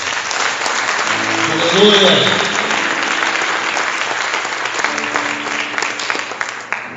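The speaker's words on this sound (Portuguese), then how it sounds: "Aplauda o Senhor Jesus." A church congregation claps loudly and continuously, a thick roar of hands that runs throughout while a voice calls out briefly over it.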